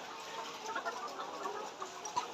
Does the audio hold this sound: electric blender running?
no